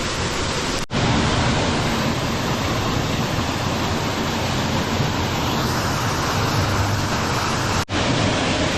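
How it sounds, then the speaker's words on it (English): Steady, loud rush of a waterfall in Utah fills the whole stretch as continuous broadband roar, close by, with two brief dropouts and no talking. "Me and Nathan went down to this fall."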